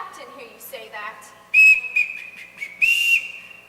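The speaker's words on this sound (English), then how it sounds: "I can't bear being whistled for." A ship captain's shrill whistle blows repeatedly in a house, with a loud sustained blast followed by shorter bursts, close and piercing, over faint background talk.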